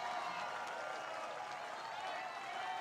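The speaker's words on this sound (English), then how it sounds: "Crowd's kind of weak, if I'm being honest." Steady applause and clapping from a political rally crowd in Butler, Pennsylvania, fairly faint and distant, holding evenly without swells or cheers.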